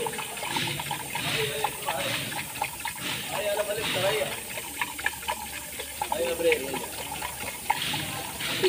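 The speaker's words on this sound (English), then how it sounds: "So put the coolant now." Liquid coolant trickles and gushes into the radiator of a Mitsubishi Pajero, a steady pouring and filling sound running throughout with someone talking over it.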